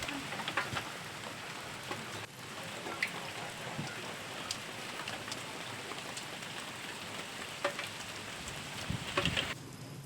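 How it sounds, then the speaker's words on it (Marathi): Heavy monsoon rain pours steadily over the town of Taloda, a dense continuous patter with a few sharper drop impacts, fairly close and with no voices over it. "तळोदा शहरात मुसळधार पाऊस सुरू आहे"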